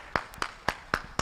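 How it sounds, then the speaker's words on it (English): Applause from an audience at a conference opening ceremony, heard as five sharp, evenly spaced claps in a steady rhythm, moderately quiet and fairly close, with no talk over them. "A big round of applause for everybody."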